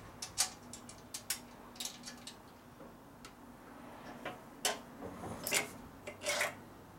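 A thread tap working in a bolt hole on the gas tank of a 1958 Harley-Davidson Panhead 74ci being rebuilt, with faint, irregular ticking and rasping clicks scattered over a quiet background.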